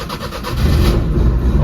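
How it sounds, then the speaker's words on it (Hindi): A Maruti 800 with a carburettor engine starts up and settles into a loud, rough, steady running note right up close. "तो हमने गाड़ी स्टार्ट कर लिया।"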